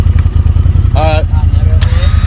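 Off-road side-by-side engine idling with a low rhythmic throb, then given light gas in short revs, loud and close while people talk nearby.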